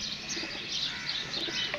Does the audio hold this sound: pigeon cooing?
yes